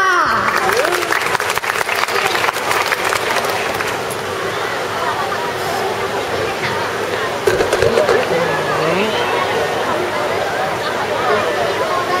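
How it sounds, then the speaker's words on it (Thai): A theater audience claps to welcome a children's dance troupe onstage at an anniversary show, sustained dense applause with crowd murmur and occasional sharp claps throughout. "ขอขอเสียงปรบมือต้อนรับนะคะ"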